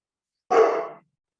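A single loud dog bark, about half a second long, cuts into an otherwise quiet moment during a commission meeting vote.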